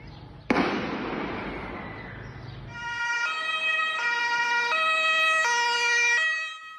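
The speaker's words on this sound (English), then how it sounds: "Then the sound of sirens as ambulances and police officers made their way to the scene" A sharp bang, then wailing ambulance and police sirens rise and cycle through repeated tones, loud and sustained, with traffic rumble underneath, after a school shooting in Graz, Austria.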